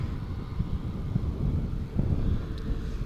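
Eastern Airways plane, operating for KLM, taxiing at an airport just after landing, with a steady low engine rumble and wind buffeting the microphone throughout.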